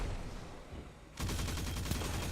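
A Huckleberry exotic SMG in Destiny 2 Crucible fires a sustained, rapid burst for over a second, loud and dense after quieter game ambience, with no talking over it.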